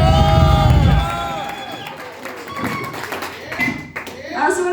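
A live concert crowd claps and cheers for the lighting technician, a dense burst of applause with whoops that fades after a second into scattered claps, taps and crowd noise.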